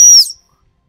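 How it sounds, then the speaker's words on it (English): Single short, shrill blast of a dog training stop whistle during a working cocker and springer spaniel puppy session, loud and close, cutting off abruptly into silence. "Stop whistle first."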